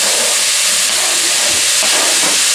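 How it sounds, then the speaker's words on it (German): Minced meat browning in a hot pan gives off a loud, dense, unbroken hiss of sizzling that stays close and even from start to finish. "So, das Hackfleisch brutzel ich kurz an."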